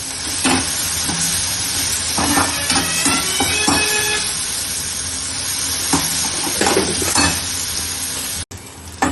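Small onions sizzle steadily in hot oil with mustard seeds, urad dal and green chili for a South Indian sambar, a close, continuous frying hiss broken by scrapes and clinks of stirring, with no voices.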